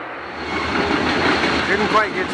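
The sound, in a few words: freight train passing through Monroe Center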